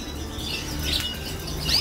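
Caged breeding birds give a couple of faint, thin chirps over a low background hum, quiet and sparse with no talking.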